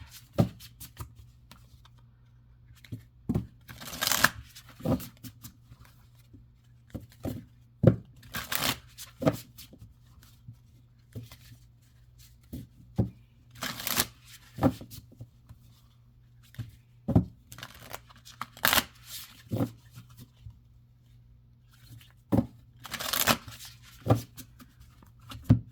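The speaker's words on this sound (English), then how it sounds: "I'm finding I like to side shuffle or cards better." Oracle cards from a Tree of Life deck being side shuffled by hand, crisp riffling bursts repeating every few seconds with quiet gaps between, close and clear.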